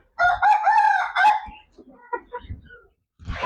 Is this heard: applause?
no